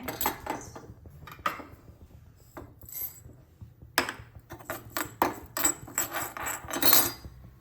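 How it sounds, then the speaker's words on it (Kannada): Coriander seeds dry-roasting in a pan for amla rasam, heard as intermittent metallic scrapes and clinks of stirring against the pan with quiet gaps between them, no voices. "ಇದಕ್ಕೆ ಈಗ ಕೊತ್ತಂಬರಿ ಹಾಕ್ತೇನೆ"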